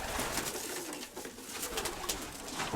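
Soft, low pigeon coos repeating over a bed of rustling and background noise, nearby and moderately quiet.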